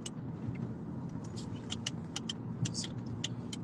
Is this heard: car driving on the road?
yes